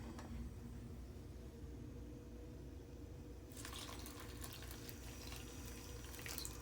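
Boiling water pours into oatmeal in a collapsible container in a hotel room, a faint steady trickle that swells into a brighter, louder splashing stream halfway through.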